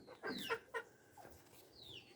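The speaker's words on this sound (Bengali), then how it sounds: "মুরগি" A hen clucks in soft, short bursts near a sitting hen laying eggs, several brief calls followed by quieter chatter and low background noise.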